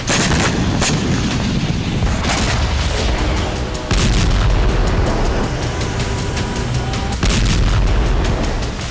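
Explosions from a hypersonic missile strike on Israel, heard in a war news report: continuous loud rumbling with several heavy booms and bangs, dense and close, no talk.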